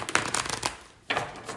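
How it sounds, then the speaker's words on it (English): A tarot card deck is shuffled up close, giving quick papery riffling bursts, then a short pause, then another brief riffle, with no talk. "I'm going to give these a little shuffle. I'm using the Radiant Tarot deck today."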